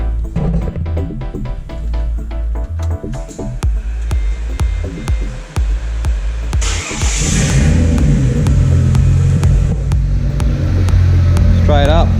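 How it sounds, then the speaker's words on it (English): Ford EL Fairmont Ghia fitted with a Barra engine cranks over and catches, settling into a loud, steady idle close by, with people talking over the engine noise. "we're just going to give it a start now and see how she goes"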